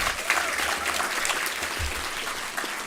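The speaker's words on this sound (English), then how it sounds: "Please give all these achievers a big round of applause." An audience at an architecture graduation ceremony applauds steadily, a dense, even wash of clapping from a large crowd filling the whole stretch.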